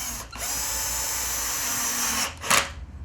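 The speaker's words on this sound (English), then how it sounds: "all I've got to do is fire in 3 screws to hold it" Cordless drill whirring steadily at close range as it drives screws into recycled pallet wood, one long continuous run that cuts off briefly, then a short final burst.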